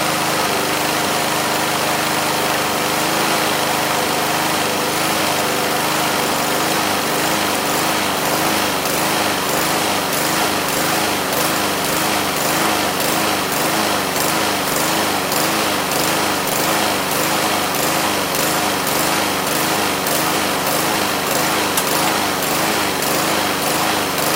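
A Troy-Bilt TB160 lawnmower with a Honda engine runs loudly and steadily throughout, a buzzing, chugging drone close by with no talking.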